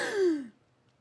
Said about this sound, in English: Why'd you gasp?